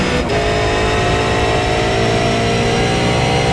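A V8 race car engine in a racing video game holds a steady, loud, continuous drone at high revs for the whole stretch, with no voices over it.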